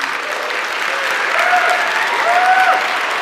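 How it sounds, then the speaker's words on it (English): Sustained audience applause from a live tech talk crowd, dense and steady throughout, with faint whistles or cheers rising above the clapping. "once again, a big round of applause for Brian Lunduke"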